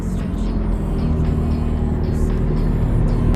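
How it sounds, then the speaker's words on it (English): A McLaren P1 GTR supercar pulling up nearby, its engine a loud, steady low rumble with a faint rise in revs, accompanied by muffled background voices. "P1 GTR coming up again."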